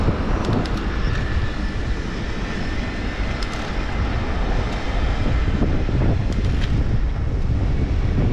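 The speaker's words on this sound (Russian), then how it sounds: "Да, ветер, ветер, сейчас встречный будет фигачить нам." Strong headwind buffets the microphone of a cyclist riding in Crimea in April, a constant loud roaring rumble that covers everything else, with no talking.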